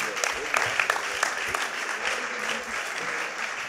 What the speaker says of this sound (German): Dann gibt's jetzt vielleicht auch einen Applaus, sobald du auf diese Bühne trittst.